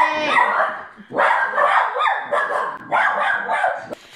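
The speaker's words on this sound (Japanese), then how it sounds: "デイジーとマイロが、あの お隣さんが出てきたことによってね、吠えちゃったので" Dogs at a rented house bark repeatedly at a neighbour, sharp loud close barks in quick bursts with yips between them, filling the whole stretch.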